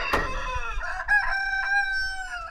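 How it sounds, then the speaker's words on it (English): A rooster crows once, loud and close, one long drawn-out cock-a-doodle-doo following a brief sharp cluck, with no other sound around it. "I do not know what the chickens are going on about. They are relentless today."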